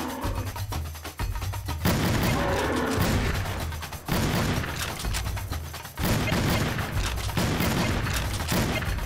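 Rapid gunfire from a hunting video game, Cabela's Dangerous Hunts 2011, comes as dense repeated bursts of shots and booms, loud and continuous across the whole stretch with brief gaps between volleys.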